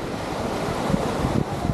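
Surf rolling onto Waikiki Beach in Hawaii, a steady broadband wash with some wind buffeting on the microphone and no voices.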